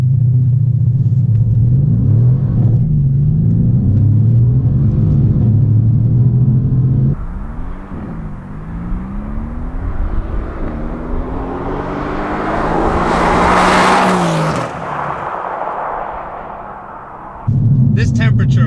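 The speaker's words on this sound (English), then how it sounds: "I'm going to brake boost in first gear, and then I'm going to lean into first and see if I can get a better launch" A 503 hp Mercedes C63 AMG is brake-boosted in first gear and launched from a standstill. A loud rumbling idle rises into a climbing engine roar with wheel slip, then settles back to a low rumble, with a voice speaking over it inside the car.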